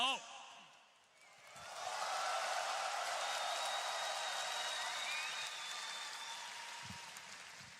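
Crowd applause and cheering after a Dota 2 match at The International esports event, a broad sustained roar that swells up after a quiet start and holds steady, with voices heard talking at the beginning.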